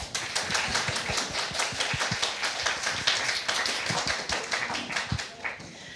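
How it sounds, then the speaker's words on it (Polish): An audience at a theatre book event claps steadily, a dense patter of many hands applauding together throughout. "Duże brawa dla Olgi."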